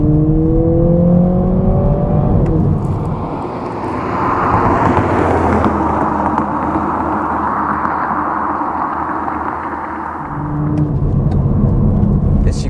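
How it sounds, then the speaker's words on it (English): A 2022 Toyota Supra 2.0 four-cylinder on a twisty road, its engine and exhaust rising in pitch as it accelerates, holding a loud, steady drone, then dropping back and climbing again, close and alone. "The exhaust sounds pretty good for a 4-cylinder."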